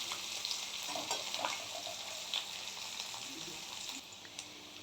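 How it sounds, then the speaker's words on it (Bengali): Onions frying in hot mustard oil in a pan, a steady close sizzle with brief stirring scrapes running through the whole stretch, no voices. "পেঁয়াজটা এখন ভেজে নিচ্ছি।"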